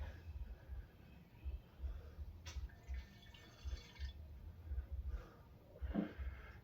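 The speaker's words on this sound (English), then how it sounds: "I'm going to pour this little sample in here gently." A small sample of homebrew beer is poured gently into a container, giving quiet trickles and a few drips close by against a low background rumble.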